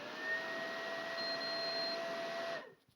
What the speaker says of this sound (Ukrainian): Колер запрацював.